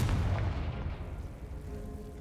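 A Confringo spell blast in Hogwarts Legacy lands as a deep boom that rolls off into a fading rumble over about two seconds, moderately quiet overall.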